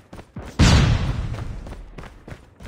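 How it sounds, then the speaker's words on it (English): A flashbang grenade goes off in a military shooter game, one sudden loud broadband blast that slowly rings down, with brief shouted voice lines before it and faint game sounds after. "Flashbang!"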